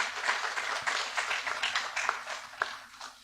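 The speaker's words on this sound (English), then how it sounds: "I think you can clap for them." Faint, scattered clapping from a small audience honoring panel guests at a leadership dialogue event, a loose patter of hands that stays soft and distant over the whole stretch.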